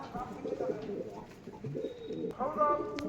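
A pigeon at a breeder's loft gives soft, low cooing close by, mixed with rustling and a person talking over the calls.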